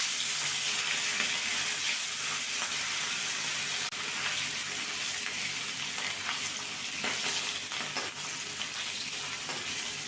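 Hilsa fish pieces fry in hot oil in a kadai, a steady dense sizzle running throughout with occasional louder crackles and bursts as pieces shift, no talking.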